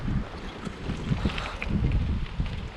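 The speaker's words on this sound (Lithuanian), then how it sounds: "šiandieną visai stiprus vėjas į nugarą, o kaip medžių šakos linksta" Loud, gusty wind buffets the microphone in continuous rumbling bursts, with no voices.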